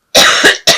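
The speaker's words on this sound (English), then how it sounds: "I'm so sorry about this cough." Two harsh coughs close together, loud and near, the second short and sharp after a brief pause.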